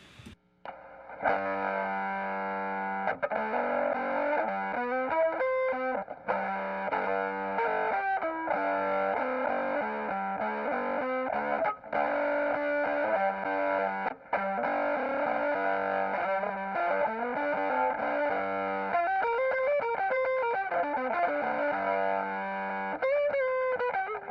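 Electric violin through a Henretta Fuzz pedal, a thick fuzz distortion, bowed continuously with a buzzy, saturated tone that sounds much like an overdriven guitar.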